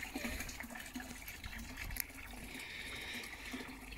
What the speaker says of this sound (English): just a water pump sat underneath, just moving water